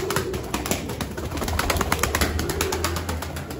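Tumbler pigeons, a flock of play birds, cooing in a loft with soft layered calls and some rustling and fluttering, dense and fairly close, without speech.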